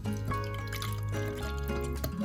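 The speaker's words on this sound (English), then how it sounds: "While my rice is cooking, I'm going to measure in the chicken juice." Chicken juice pours into a measuring cup for chicken biryani, a close, continuous liquid trickle with bubbling and dripping over a steady background tone, no voices.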